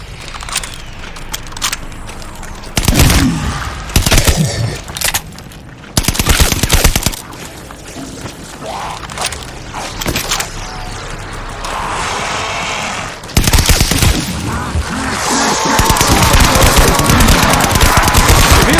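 Bursts of automatic gunfire and scattered shots in a World War II–era zombie shooter, Call of Duty Vanguard Zombies, loud and near, coming in irregular volleys with short gaps and mechanical clatter in between.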